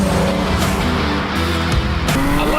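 A Toyota Avalon TRD car revving hard on a race track, a loud, steady engine roar that holds close and full throughout with slight shifts in pitch.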